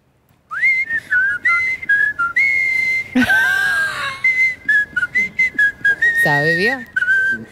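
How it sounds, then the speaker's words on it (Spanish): A person whistles a bright Peronist march melody up close in clear phrases, briefly broken by louder rustling or handling noise partway through. "¿sabes silbar la marchita?"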